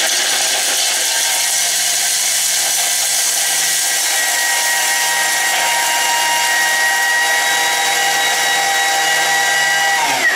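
A Thermomix runs at speed 9 for about ten seconds, chopping ingredients with a loud, steady, high-pitched whirring roar that stays constant from start to finish, with no voices.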